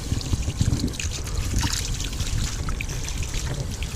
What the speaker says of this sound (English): Give them a quick rinse.